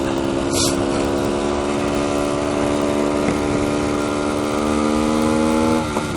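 A 1973 Suzuki TS250 Savage motorcycle engine runs loud and close, holding a steady high buzzing rev near redline with a thin, rough exhaust note throughout, with no talk.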